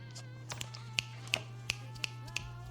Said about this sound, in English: Snaps to claps for me.